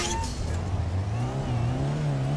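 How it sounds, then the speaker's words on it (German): A toy race car in the video game Toybox Turbos revs its engine with a rising, whining pitch that climbs steadily, loud and close over a brief stretch. "Schön aufjaulender Motor."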